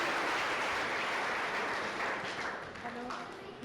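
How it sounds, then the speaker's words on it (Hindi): A church congregation bursts into loud, sustained applause for a man's healing, a broad wash of clapping that holds steady and fades slightly toward the end. "जोरदार तालियां बजाएंगे परमेश्वर की महिमा के लिए।"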